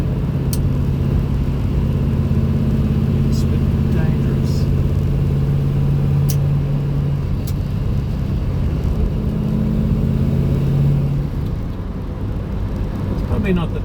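An MG Magnette ZB V8 Coupe drives through dense traffic near Melbourne, its engine a steady low drone blended with continuous road and wind noise.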